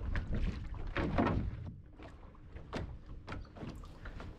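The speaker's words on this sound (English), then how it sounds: "I decided to just paddle a bit" A tiny sailboat being paddled away from a marina ramp on a Portuguese canal, with close, irregular paddle splashes and strokes in the water and some wind noise.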